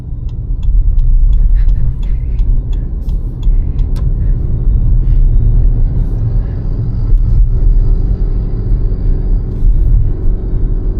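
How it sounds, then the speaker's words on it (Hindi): A Suzuki car's engine drones loudly and continuously in second gear while climbing a steep hill on a Hyderabad road, with a deep steady rumble and some road noise. "मैं दूसरे गियर में ही उठा रहा हूँ ना, क्योंकि चढ़ाई ज़्यादा है"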